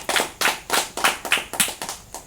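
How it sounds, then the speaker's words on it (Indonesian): Hands clap in a steady rhythm, about nine sharp, close claps in quick succession, for the audience of a talk show about Islamic boarding schools in Indonesia. "berikan tepuk tangan"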